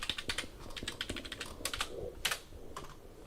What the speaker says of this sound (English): Of course you have to type in the password